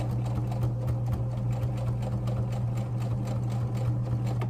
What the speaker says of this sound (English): All right, now let's just sew.